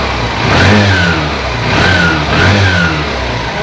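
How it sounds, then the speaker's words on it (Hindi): A Honda SP Shine motorcycle engine, recently fixed of a sound problem, revs up close in three smooth, even throttle blips over a steady idle, with no talking. "यहाँ पर एक्सीलेरेट करेंगे हम,"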